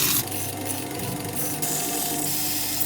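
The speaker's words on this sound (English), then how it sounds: "we're gonna just take a file on the face of the bead" Steady rasping scrape of a hand file smoothing the face of a metal bead on a French horn bell flare, continuous strokes close by with no talking.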